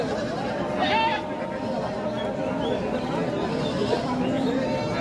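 Goats at a busy village livestock market bleat in short wavering calls among a crowd's chatter, with people talking close by throughout.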